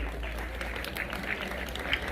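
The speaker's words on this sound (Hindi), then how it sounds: "भाई ये ताली जोरदार नहीं है, और जोरदार ताली बजाओ" Faint, scattered applause from a crowd at a school Republic Day event, steady and fairly quiet, with a low background hum.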